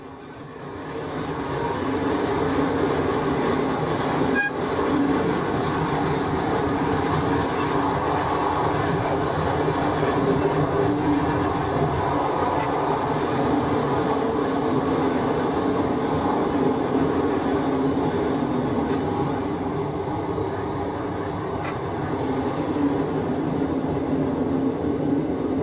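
A train travels a busy British railway line near Newton-le-Willows, close to connections with the West Coast Main Line, with a steady, loud rumble of wheels and carriages that holds for the whole stretch and has faint rail clicks, without voices.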